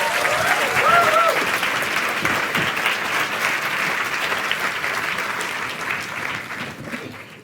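A science-communication competition audience at the Cheltenham Science Festival breaks into sustained applause and cheering for a contestant from Nicosia, a dense, loud wash of clapping with a few whoops that slowly fades.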